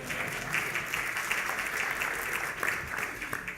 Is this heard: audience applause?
yes